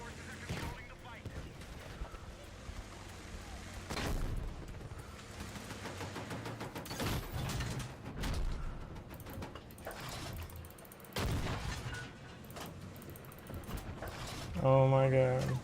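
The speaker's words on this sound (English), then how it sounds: "Those explosions look really good in this game." Explosions and gunfire from the video game Battlefield 6, with repeated loud bursts and booms scattered across a busy battle mix, heavy impacts near the middle and a louder burst at the end, under game radio voice and commentary.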